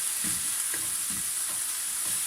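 Salted minced beef gently cooking in a pan as a samosa filling, a steady close hiss of frying with soft repeated scrapes of stirring, no voices.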